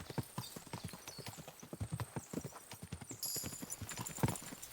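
Horse hooves gallop in a rapid, steady clip-clop rhythm in the video game Kingdom Come Deliverance 2, fairly faint, with a brief whinny-like tone toward the end.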